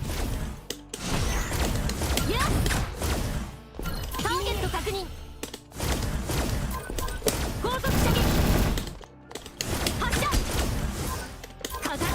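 Sniper rifle shots and battle effects in a Gundam arena fighting video game, loud dense bursts, booms and crashes nearly continuous throughout, with a player talking over the game action.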